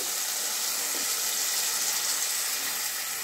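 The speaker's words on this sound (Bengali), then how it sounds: "এবার আমি জল দিয়ে দিচ্ছি" Water pours steadily into a pan of fish curry made with shorputi fish, tomato and green chilli, a continuous soft hiss and splash with no talking.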